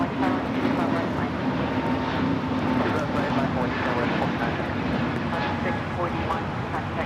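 Delta airliner taking off from runway 25 right at LAX, a steady, loud broadband jet roar held evenly throughout, with no distinct breaks, under a continuous wash of airport noise.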